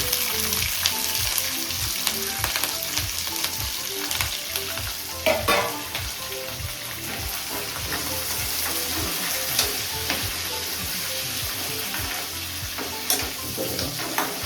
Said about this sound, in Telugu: ఉల్లిపాయలు, పచ్చిమిరపకాయలు 2 ఒకేసారి వేసేయండి